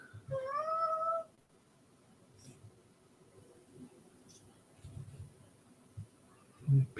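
A pet cat named Sylvester lets out a short, rising meow near the microphone at the start, then the room goes quiet apart from faint shuffling and a soft bump at the end.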